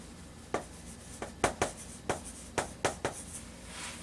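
Handwriting on paper during an English lesson, a series of close, crisp pen strokes tapping and scratching in an uneven rhythm with short pauses, quiet and without talking.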